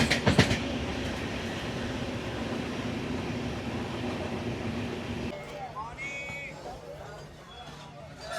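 A general coach of the Vivek Express rumbles steadily along, with a knock near the start and a quieter, thinner running sound for the last few seconds, where faint voices show through.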